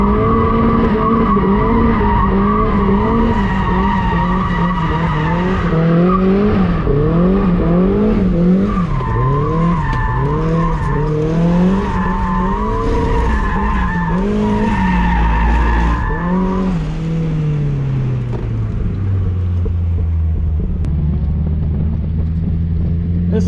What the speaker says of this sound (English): First time drifting right-hand drive, we're just sticking to first gear here on the skid pad